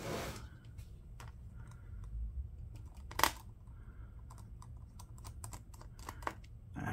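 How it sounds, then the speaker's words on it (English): A screwdriver backs screws out of the screen bezel of a Dell Latitude 5480 laptop, giving scattered small clicks and ticks with one sharper snap, quiet and close, no talk. "Looks like we've got four screws. One, two, three, four to take out."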